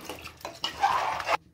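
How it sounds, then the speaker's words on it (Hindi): A bowl of water is poured into a cooking pot for a potato and pea pulao, splashing in a short rush of running water after a few brief clatters. "ये मैं दूसरा बाउल पानी डाल रही हूँ"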